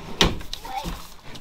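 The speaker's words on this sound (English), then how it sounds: "Sorry, I shut the door." A door is shut indoors with one sharp thud near the start, followed by a softer knock and some brief vocal sounds.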